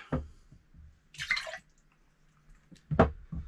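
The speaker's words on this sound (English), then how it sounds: "We're going to do our ounce of our simple syrup" Simple syrup for a whiskey sour is poured into a glass in a few faint, brief liquid trickles and drips, with quiet pauses in between.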